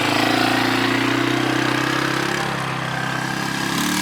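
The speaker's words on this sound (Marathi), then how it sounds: "आणि हे मोटर बाईकवाला आला" A motorbike engine runs at a busy beach in Kashid, Alibag, a steady mid-pitched drone that holds fairly loud before the note shifts slightly as it moves, over faint outdoor background.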